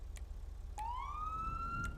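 A police siren in a video game winds up into a single rising wail, loud and close, with a faint vehicle rumble underneath and no one speaking.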